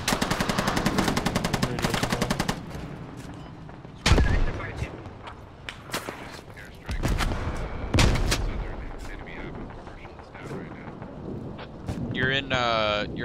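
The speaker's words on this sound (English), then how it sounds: "Oh, they're shooting at my position." Gunfire in the military shooter game Squad on the Fallujah map: rapid automatic bursts, then scattered heavy shots and booms with wind rumble between them, and a voice speaks near the end.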